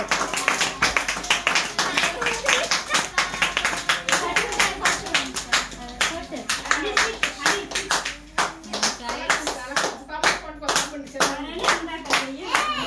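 Lively hand clapping from a group at a child's birthday celebration, steady rhythmic claps filling the whole stretch with voices and kids chattering beneath.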